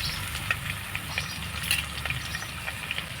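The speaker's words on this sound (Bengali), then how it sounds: "একটু নাড়াচাড়া করে ভেজে নেব" Chopped carrot, capsicum, ginger and onion frying and being stirred in a pan, a steady close sizzle with soft scraping strokes throughout, no talking.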